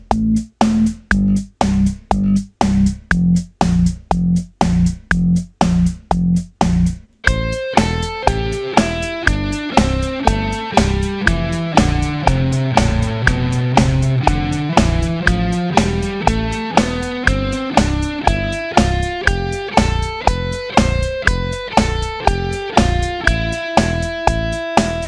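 Electric guitar lead line picked in steady quarter notes, a few low repeated notes followed by a sustained, effect-laden run descending then climbing back up, even rhythmic attacks throughout, loud and alone with no talk.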